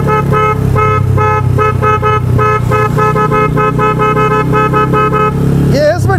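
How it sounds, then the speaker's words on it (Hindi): A loud, steady two-tone aftermarket double horn on a motorbike honks in a rapid repeated pattern over an idling engine, close up, ending with a brief rising squeal. "डबल हॉर्न है ये, डबल हॉर्न।"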